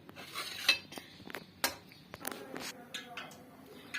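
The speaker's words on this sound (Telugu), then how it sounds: "ఇప్పుడైతే మనం మష్రూమ్స్ 2 ముక్కలుగా కోసుకుందాం." A knife cuts mushrooms into pieces on a board: a run of sharp, irregular taps and clicks, close and fairly quiet, with short pauses between the strokes.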